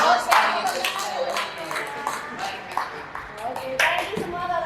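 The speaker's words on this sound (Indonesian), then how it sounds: "Tepuk tangan buat Frankie itu." A few people clap at a church gathering, sharp uneven hand claps scattered across the clip, with voices talking and cheering over them.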